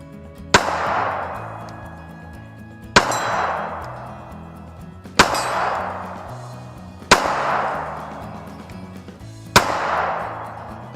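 Five pistol rounds strike a steel target at an outdoor range, each a sharp, ringing metallic clang that decays slowly, spaced about two seconds apart with nothing else between.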